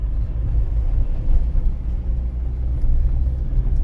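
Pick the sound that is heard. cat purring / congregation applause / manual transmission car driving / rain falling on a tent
manual transmission car driving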